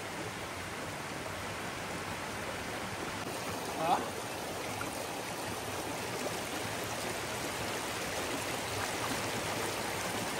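Clear stream water flows in a steady, broad rushing wash, heard at a constant level throughout, with one brief faint squeak partway through.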